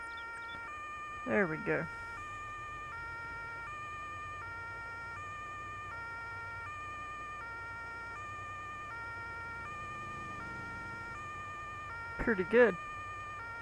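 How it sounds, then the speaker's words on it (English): A fire truck siren in Farming Simulator 22 wails with a steady, wavering electronic tone that stays loud and constant throughout, while a person briefly speaks near the beginning and again near the end. "But I guess we could turn the siren on for a minute."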